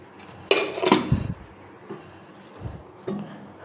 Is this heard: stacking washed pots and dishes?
yes